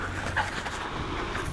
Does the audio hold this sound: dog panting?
yes